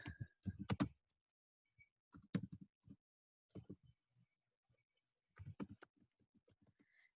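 Typing on a computer keyboard comes as bursts of crisp key clicks, quick clusters separated by pauses, faint and close in an otherwise quiet room with no one speaking.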